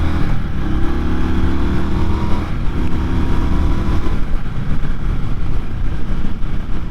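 Indian Scout Rogue cruiser motorcycle accelerating at full throttle, a loud, continuous engine roar with rumbling exhaust and heavy wind buffeting throughout, pitch shifting slightly as it climbs through the gears.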